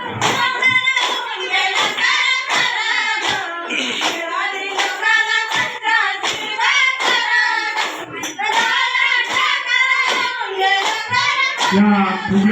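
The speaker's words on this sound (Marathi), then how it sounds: "अतिशय सुंदर टाळ्या वाजवा" An audience claps for a Fugdi folk dance at an inaugural function, with dense, continuous applause and rhythmic hand claps throughout, loud and close, and voices mixed in beneath.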